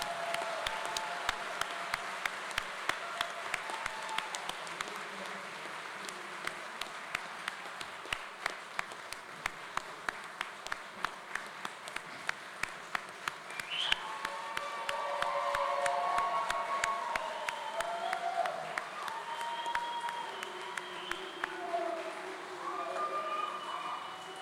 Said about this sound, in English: Please give us a round of applause for all of our graduates.